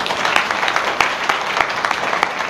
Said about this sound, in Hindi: आप लोग ताली बजाए